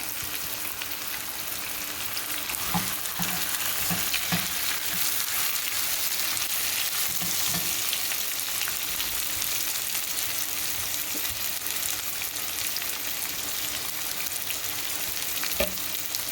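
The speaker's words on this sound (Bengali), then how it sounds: "চিকেনটা এখন আমি প্রায় 5-6 মিনিট এখানে কষাবো, তারপরে পানি দেব" Chicken sizzles steadily in a pan with fried onions and whole spices for a methi chicken curry, a constant bright frying hiss with occasional stirring clatters, close and moderately loud, with no talking.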